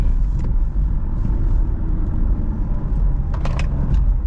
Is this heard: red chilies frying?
no